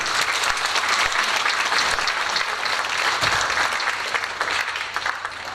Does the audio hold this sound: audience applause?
yes